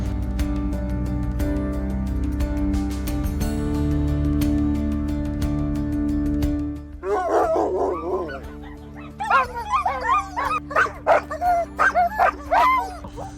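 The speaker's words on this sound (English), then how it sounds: "These amazing Alaskan Huskies are just irresistible." Alaskan Husky sled dogs and puppies bark and yip in quick, excited bursts in the second half, near and fairly loud, after a stretch of steady background hum and tones.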